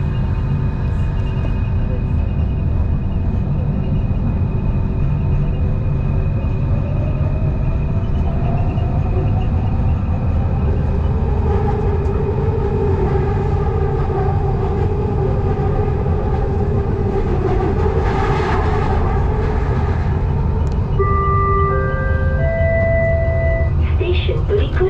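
Riding an LRT train through central Kuala Lumpur, with a loud, constant rumble and hum of the carriage lasting throughout, rising tonal whines as it moves, and a chime near the end.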